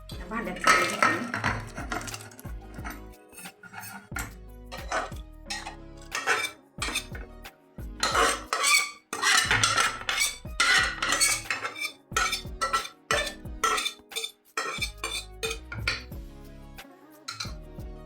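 A spatula scrapes cooked vegetable from a pan into another vessel, giving loud, repeated metallic scrapes and clanks in irregular bursts.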